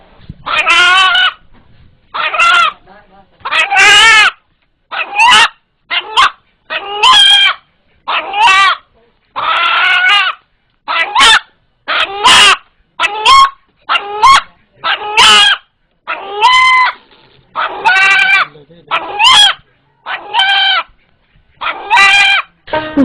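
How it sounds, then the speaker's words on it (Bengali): A rooster crows and calls over and over in loud, close, rapid bursts with brief pauses between them. No talking. "পালিত একটি মোরগের ডাক একটু অন্যরকম।"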